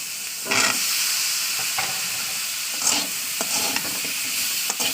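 Cut potatoes hit a pan of shallow oil for a shrimp and okra dish, raising a steady, loud sizzle and hiss punctuated by scraping stirs, close by and without voices.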